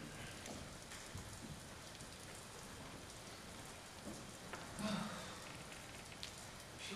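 Steady rain falls throughout as a dense, even hiss of drops on a surface, with faint low rumbles and a brief voice partway through.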